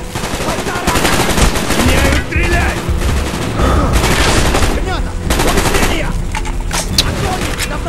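Loud, dense automatic gunfire from the video game Call of Duty Black Ops fills the stretch, with rapid bursts and booming shots running almost continuously.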